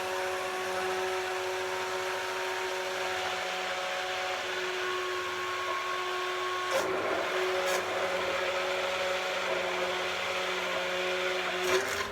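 A blender steadily purees butternut squash and ginger soup, its motor whirring loud and close with a constant tone, broken by a couple of brief bumps and ending in a short surge, with no speech.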